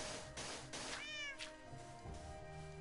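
Cats in the Minecraft video game meow repeatedly, several clear rising calls over a steady game background with no talk.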